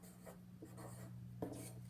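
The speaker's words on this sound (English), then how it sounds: "So let's write type." A pen or pencil scratches on paper in a few short strokes, soft and close against a low steady hum, with no talk.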